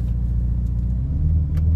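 Low, steady engine rumble from a Ferrari hybrid car driving slowly, close up and continuous with no voices.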